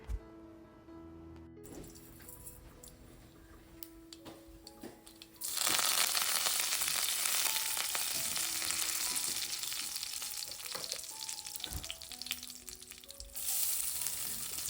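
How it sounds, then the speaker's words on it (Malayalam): Ivy gourd (kovakka) stir-fry frying in a pan, a quiet clatter of stirring at first, then a loud, steady sizzle of oil and vegetables that fills the rest of the clip, with no talk. "ആദ്യം നമ്മൾ കോവക്ക കൊണ്ടുള്ള ഉപ്പേരിയാണ് ഉണ്ടാക്കുന്നത്."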